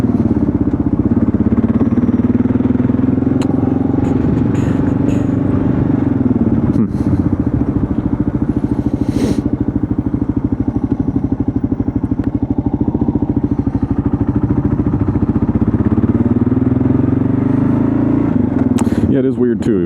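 A Kawasaki KLR650 motorcycle pulls away from a stop on a town street, its single-cylinder engine thumping loud and close as it accelerates, with a steady rumble throughout and a few clunks and rattles.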